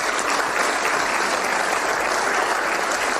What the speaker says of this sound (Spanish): Así que también un aplauso para ella.